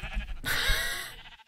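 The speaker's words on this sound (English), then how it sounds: "Get the sheep! Oh, get the sheep!" Sheep bleating in the video game Minecraft during a team minigame, one loud bleat lasting about a second, clear and upfront with a bright, noisy tone.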